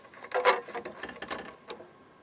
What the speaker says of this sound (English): Putting the securing screws back in.